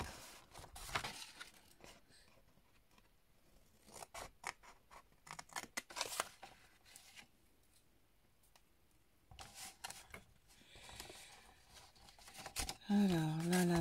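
Scissors snip through fabric for a homemade backpack in sharp, close bursts of cuts with pauses between, and a voice speaks briefly near the end.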